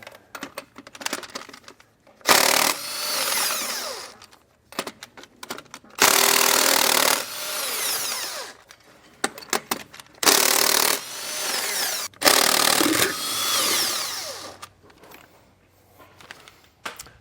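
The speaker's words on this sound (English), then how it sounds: "Now to remove the lug nuts, we're going to need a 13/16 socket." Impact wrench on a 13/16 socket removing lug nuts from the wheels of a 2020 Forest River Georgetown trailer, in four loud rattling bursts of one to two seconds each, separated by quieter clanks and handling noise.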